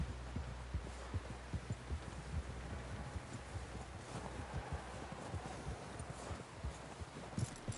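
Steady rhythmic hoofbeats of a horse clip-clopping along at a trot in Red Dead Redemption 2, with a low rumbling hum underneath throughout.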